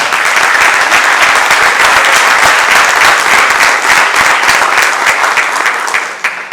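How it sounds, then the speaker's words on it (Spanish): A large audience at an architecture colloquium applauds an architect, with dense, loud, sustained clapping that carries on steadily before thinning out slightly at the end. "Por favor, un aplauso para el arquitecto."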